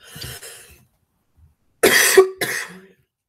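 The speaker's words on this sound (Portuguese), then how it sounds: "a pessoa não para de tossir" A faint breathy sound comes first, then after a pause two loud, close coughs follow in quick succession, the second slightly weaker.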